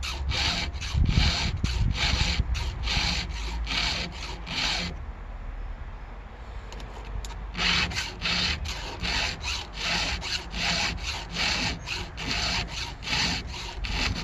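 A round file is pushed hard across the teeth of a chainsaw chain being reprofiled for rip cutting, giving fast, rhythmic rasping strokes up close, with a brief pause partway through before the strokes resume.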